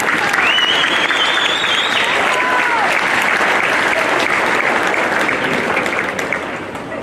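At a high school graduation ceremony, the crowd breaks into loud, sustained applause for graduates' families and friends, steady clapping with a few voices and whoops mixed in, fading slightly at the end.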